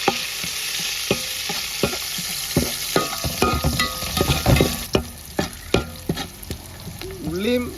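Curry leaves sizzle in hot oil with onion, garlic and ginger for a spicy fish curry, a steady crackling fry punctuated by sharp spoon clinks and scrapes against the pan.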